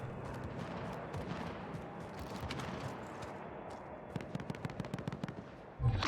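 Rapid automatic gunfire from a Call of Duty Warzone match, a dense stream of bursts running throughout with sharper distinct shots near the end, followed by a louder low thump at the close.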